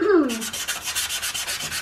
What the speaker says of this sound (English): I'm going to take the additional step of rubbing in this first layer